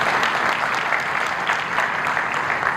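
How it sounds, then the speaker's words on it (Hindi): Audience at a heart health awareness event breaks into continuous applause, a dense wash of many hands clapping at steady loudness throughout. "इनके लिए एक बार ताली बजाते हैं।"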